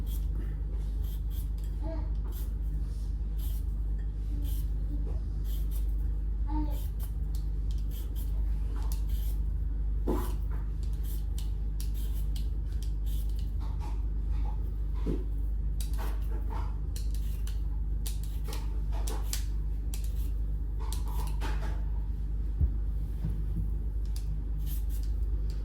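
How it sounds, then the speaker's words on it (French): Potatoes being peeled by hand in a home kitchen, with short, irregular scraping strokes and small clicks of the peeler, close and fairly quiet over a steady low background hum, with no talking. "Voilà, du coup là je viens de finir d'éplucher les pommes de terre."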